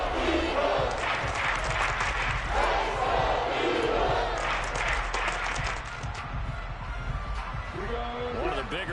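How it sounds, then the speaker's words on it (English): Crowd cheering in the Madden 23 American football video game, a broad, loud stadium roar that rises and falls in waves, with a voice coming through near the end. "The crowd getting into it"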